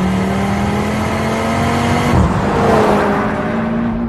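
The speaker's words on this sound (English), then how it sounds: "the 5-cylinder engine that puts out over 400 horsepower and sounds brilliant" Audi RS3 with a five-cylinder engine making over 400 horsepower accelerates hard, its rising engine note sustained and loud, dipping briefly at a gear change before climbing again.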